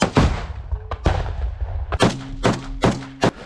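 Heavy artillery gun blasts boom nearby, several sharp shots a second or so apart, each with a rumbling tail.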